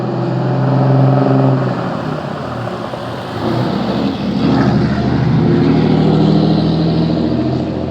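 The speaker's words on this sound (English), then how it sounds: "Makes a loud ass pickup truck go by." A loud pickup truck drives by outdoors, a strong engine rumble that swells, dips briefly and swells again as it passes close by, with no talk over it.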